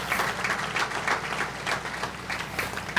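An audience at a July 4th patriotic program applauds a World War II veteran, with dense, steady clapping from many hands sustained throughout.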